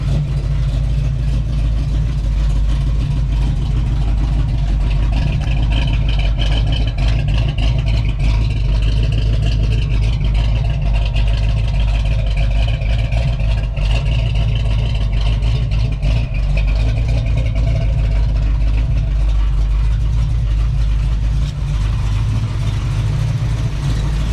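A deep, rumbling big-block V8 engine in a Mitsubishi 3000GT idles steadily and loudly up close, its low throb constant throughout with no other sounds.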